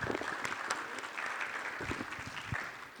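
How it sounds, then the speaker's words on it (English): An audience at a talk gives a round of applause for a speaker, a soft, steady wash of many hands clapping at a distance, continuous throughout and tapering slightly at the close. "One round of applause first for Rashna,"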